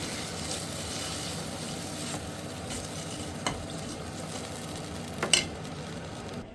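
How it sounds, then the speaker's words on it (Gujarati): Dal tempering sizzles in a hot pan in a home kitchen, a steady broadband hiss with a few sharp crackles and a louder pop near the end, heard alone without talk. "આ આપણી દાળ વઘારાઈ ગઈ છે"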